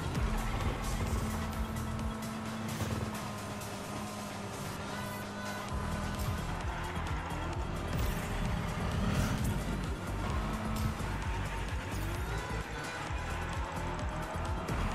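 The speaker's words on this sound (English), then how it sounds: "Nice long drift." A car drifts through a long corner in a racing video game, its engine droning steadily with tire squeal layered over a busy game soundtrack throughout.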